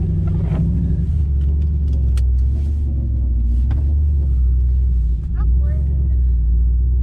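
A turbocharged GMC truck in two-wheel drive in a snowstorm gives off a loud, steady engine rumble as its wheels work through the snow, with muffled voices underneath.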